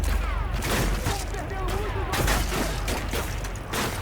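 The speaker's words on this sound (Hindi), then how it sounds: "और फायरिंग आ रही है" Gunfire in Call of Duty: Modern Warfare 2 during the No Russian mission, a dense ongoing fusillade of rapid shots and booming impacts, some sounding distant, that fills the whole stretch with dense battle noise.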